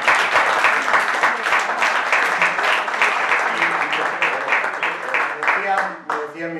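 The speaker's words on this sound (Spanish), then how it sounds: "Un aplauso." Strong, continuous applause from an audience at a Spanish-language debate on the Basque Economic Agreement, with many hands clapping steadily and loudly close by before tapering near the end as a voice begins speaking.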